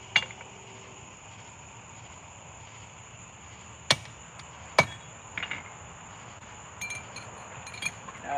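At a forge, a hammer strikes a punch on hot metal: a handful of sharp, ringing blows, irregularly spaced, over a quiet background hum.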